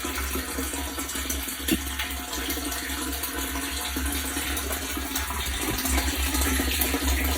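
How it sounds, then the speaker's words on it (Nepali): Water gushes from a newly connected pipe into a water tank set on a stand, a steady, close rushing flow that continues without a break and with no voices. "पानीको कनेक्सन गरेर पानी आउँदैछ"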